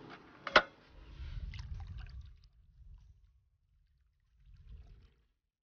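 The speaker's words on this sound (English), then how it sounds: "start the pumping system by switching the on-off button on" A Grundfos solar water pump system switches on with a sharp click, then a low rushing churn of pumped water swells, fades, and returns in a shorter burst.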